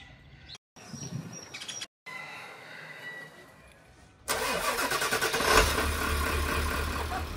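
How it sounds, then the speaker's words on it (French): A car engine turns over and catches, then runs at a steady, fairly loud idle with a rising rev, after a quieter stretch with faint birdsong, outdoors in Antigua, Guatemala. "Le moteur tourne bien, comme d'hab."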